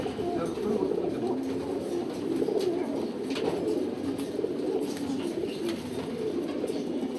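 Racing pigeons on a vaccination day cooing in a busy loft, a soft continuous murmur of coos mixed with wing flutters and faint background chatter, moderately quiet.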